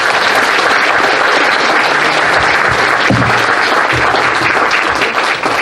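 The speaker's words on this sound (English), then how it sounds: "So give a round of applause to Keys and Senshi." A large convention audience at a furry convention's opening ceremonies breaks into loud, dense applause with cheering, close and continuous throughout.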